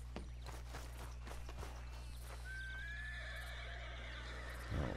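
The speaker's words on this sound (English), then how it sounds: "why is my horse making so much noise?" A horse in Red Dead Redemption 2 whinnies in a long, rising-and-falling neigh after a few hoof clops, close and clear over a low steady hum.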